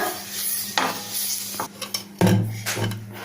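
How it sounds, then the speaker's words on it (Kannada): An onion half is rubbed over a hot oiled griddle with scraping, faint sizzling and light metallic clinks, all close and steady with no talking. "ಹೆಂಚು ಬಿಸಿಗೆ ಇಟ್ಕೊಂಡು ಒಂದು ಸ್ವಲ್ಪ ಸ್ವಲ್ಪ ಎಣ್ಣೆ ಹಾಕ್ಕೊಂಡು ಈರುಳ್ಳಿಯಿಂದ ಉಜ್ಕೋಬೇಕು"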